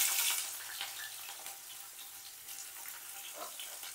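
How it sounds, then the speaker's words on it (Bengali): Onions tossed into hot oil with tempering spices for a spinach and fish-head chhyachra, a soft steady sizzle that starts a little louder and settles into faint, even crackling. "পেঁয়াজটাকে দিয়ে একটু ভালো করে ভেজে নিতে হবে"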